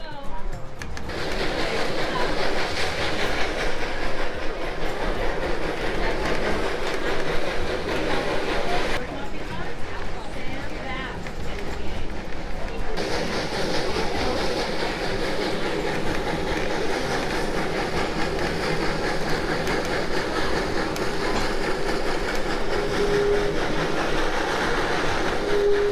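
The 1880 steam train rolls along past a road crossing with a continuous loud rumble and rhythmic wheel clatter, easing briefly midway before picking back up.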